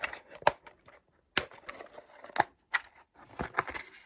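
Scissors snip through 5/16-inch heat shrink tubing from a Harbor Freight pack, giving a few sharp, close cuts with short pauses between them.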